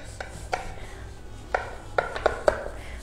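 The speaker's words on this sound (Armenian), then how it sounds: "իսկ հիմա պետք է արդեն կտրատենք" A knife cuts through a slab of halva with several sharp, separate taps on a board. The clicks come in an uneven rhythm, close up and fairly crisp, with no talk.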